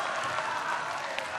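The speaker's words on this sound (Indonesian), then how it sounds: "memberikan tepuk tangan yang paling meriah untuk kedua pasangan calon presiden dan wakil presiden" Supporters in the audience at an Indonesian presidential debate between Jokowi and Sandiaga Uno applaud in a dense, steady wash of clapping that fills the whole moment, with no talk over it.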